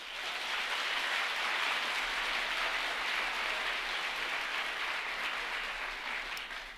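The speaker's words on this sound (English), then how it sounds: "Please give them a round of applause." Sustained audience applause fills the room at a community foundation's annual meeting, a steady, dense wash of clapping with no voices over it.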